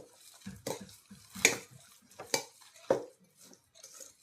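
Lumpia filling mixed in a bowl, with irregular clinks and scrapes of utensils against dishes and soft wet stirring, close and fairly quiet with gaps between the sharper knocks.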